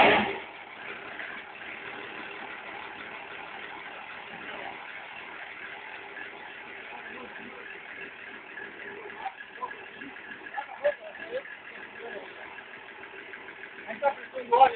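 A freshly assembled car engine idles steadily, then revs up in short bursts toward the end, heard at moderate distance with a rough, even drone.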